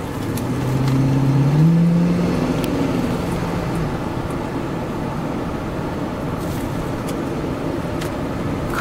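A 1997 Lincoln Town Car drives along with a steady low engine drone and road rumble, heard from inside. The engine note rises briefly early on and then settles into an even cruise, with a few faint clicks.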